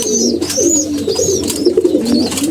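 Pigeons coo loudly and close, several overlapping throaty rolling calls repeating throughout, with a faint higher chirp above and no speech.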